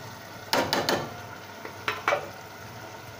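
A spoon clatters against a pan while chilli, turmeric and coriander masala is stirred and roasted, with a few sharp scraping knocks over a low, steady sizzle.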